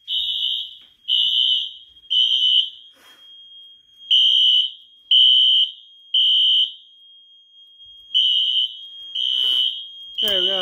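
Wheelock fire alarm horns sounding in unison during a building system test, loud and close: a run of sustained, evenly spaced horn blasts with short gaps between them, and brief talk near the end.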